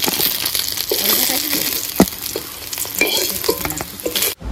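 Fish fry in hot oil in a pan, giving a steady, close sizzle with scraping and stirring clatter and a sharp utensil knock midway, until the sound cuts off abruptly at the end.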